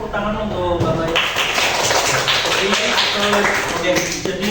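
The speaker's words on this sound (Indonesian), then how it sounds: "tepuk tangan untuk Bapak ya." A classroom full of students claps for their male teacher after a micro-teaching lesson, a dense, continuous patter of hands lasting several seconds with voices talking over it.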